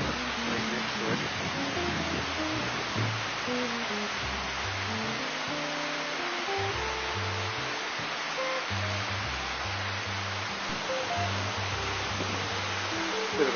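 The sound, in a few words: waterfall next to Mummery Glacier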